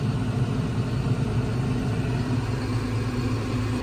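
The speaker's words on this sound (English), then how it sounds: "I didn't want to turn the engine off when it's hot." A hot farm tractor engine idles in a hay field after baling work, giving a steady low rumbling drone at close range with no talking.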